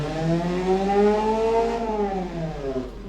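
A simulated car engine in the Automation video game, with a carburetor and fire cans, revs up in a rising, steady tone that crests and eases back, loud and close.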